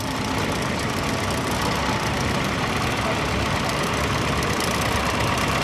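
A 1967 Nuffield 1060 tractor engine runs steadily in a display ring at a steam fair, a dense, loud, continuous chugging drone with crowd and outdoor noise mixed in.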